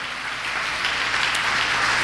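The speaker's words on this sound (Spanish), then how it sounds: "Denle un aplauso a Jesús." A church congregation applauds during a sermon, a steady wash of clapping from a crowd that holds for about two seconds without any voices over it.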